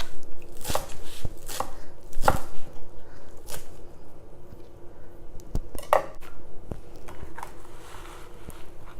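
Sharp, irregular knife chops through fresh cilantro on a cutting board, close and crisp, with a few louder strikes and soft handling noises between cuts and no talking.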